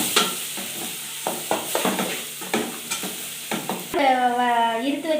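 Turmeric and chilli powder sautéed in oil: a spoon scrapes the pan in rhythmic strokes over a light sizzle, close up, with no voices. A brief warbling tone rises near the end.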